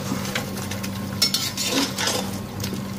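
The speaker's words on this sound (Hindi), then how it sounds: "अब इसको चला दीजिए। मिक्स कर लिया मैंने मसाले डाल के।" Spices stirred into meat in a cooking pot for Punjabi aloo gosht, a spoon scraping and clinking against the metal in a steady stirring rhythm under soft frying, close and alone.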